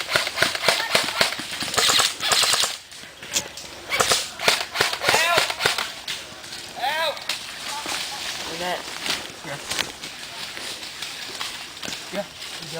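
Airsoft guns fire during an outdoor capture-the-flag game, rapid sharp pops and cracks in bursts and single shots, some near and some farther off, with players shouting and talking between volleys.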